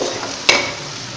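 Onions frying in oil in a pan on their way to golden brown for a Pakistani masoor daal, giving a steady close sizzle broken once by a quick stirring scrape.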